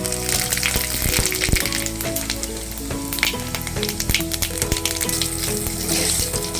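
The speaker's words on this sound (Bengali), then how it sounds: "ফোড়নে দিয়ে দিচ্ছি একটা তেজপাতা ছিঁড়ে দিয়েছি, 2টো এলাচ, 2টো লবঙ্গ, আর 2-3 টুকরো দারচিনি, আর খুব সামান্য জিরে।" A torn bay leaf, two cardamom pods, two cloves, a few cinnamon pieces and a little cumin sizzle in hot oil, a loud, continuous frying hiss with small pops and a few stirring clinks.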